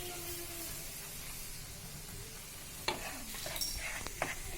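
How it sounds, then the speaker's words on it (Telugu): Wheat flour being stirred a little at a time into jaggery halwa in a pan: a steady low hiss, then closer scraping and stirring sounds that grow busier toward the end, with no voices. "ఇప్పుడు ముందుగా తీసి పెట్టుకున్న గోధుమ పిండిని కొద్దిగా యాడ్ చేస్తూ కలుపుతూ"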